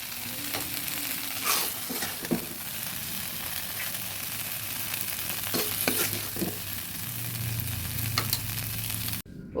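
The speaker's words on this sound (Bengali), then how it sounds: "কিছুটা তেল দিয়ে পেঁয়াজ আর কাঁচা লঙ্কা দিয়ে ভালো করে ভেজে নিচ্ছি" Onion and green chili fry in oil in a wok with a steady, loud sizzle, while a spatula scrapes and knocks against the metal at intervals.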